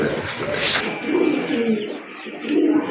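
A pigeon cooing close by, with soft low repeated coos and a sharp brief chirp early on, alongside people talking nearby.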